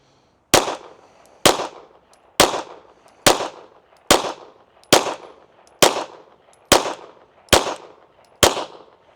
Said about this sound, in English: We're going to shoot a group at the top right target.